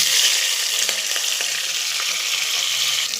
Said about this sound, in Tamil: நம்ம வெட்டி வச்சுருக்கிற பச்சை மிளகாவையும் பிரியாணி இலையும் நம்ம போடுறோம்